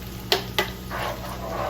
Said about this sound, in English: here I have 2 eggs already beaten up with a little bit of salt, and that is going in to our hot frying pan.